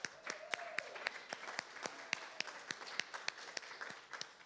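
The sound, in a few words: audience applause at live concert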